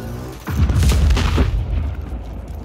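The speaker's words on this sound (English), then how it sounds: "Shotgun. Nice." A heavy, booming shotgun blast in Just Cause 4 hits with a deep low-end thump and rolls into a long rumbling tail, loud and close, with no talk over it.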